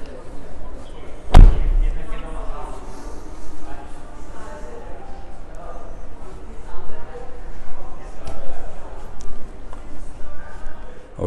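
A single heavy thud as the manually closed door of a 2022 Mercedes-Benz GLA 200d AMG is shut, a sharp loud slam early on, followed by quieter ambient noise and someone talking.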